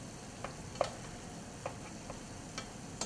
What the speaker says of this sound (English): We'll just go ahead and give it one more fluff. Mix it up a little bit.